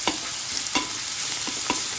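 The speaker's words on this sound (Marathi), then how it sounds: "हाच मसाला याच्यात परतून घ्यायचा" Masala being stir-fried in a few spoonfuls of hot oil for a stuffed ridge gourd dish, a steady sizzle with several distinct spoon-scraping strokes at irregular intervals.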